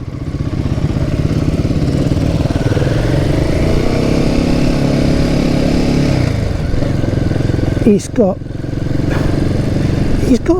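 Royal Enfield motorcycle engine, a loud close thumping idle that swells with rising revs and then eases back down, with someone talking briefly over the end.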